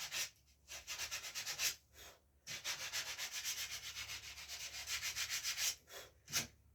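Sandpaper rubs over the rawhide backing of a paddle bow in steady, rhythmic back-and-forth strokes. A few short pauses break the otherwise continuous, close scratching.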